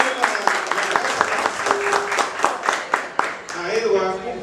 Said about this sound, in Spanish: Un aplauso, Moisés.